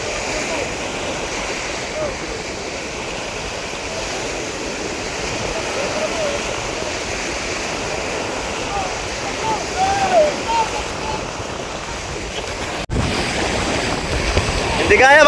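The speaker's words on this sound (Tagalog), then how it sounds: "Malakas talaga yung alon." Strong waves wash and churn around a dragon boat and the small towing boat nearly swamped beside it, giving a continuous loud rush of water that swells toward the end.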